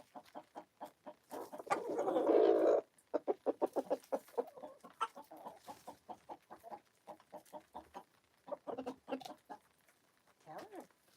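Hens clucking and a hen singing her egg song on a cold Maine morning, a long run of rhythmic, close clucks with one louder drawn-out cackle early on, while a person talks softly between the calls.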